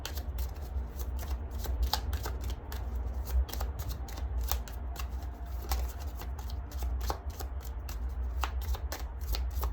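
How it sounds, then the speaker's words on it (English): Fortune cards being shuffled by hand, a rapid close run of crisp riffling flicks repeating steadily throughout, with no talk. "Right, let's get you some fortune cards."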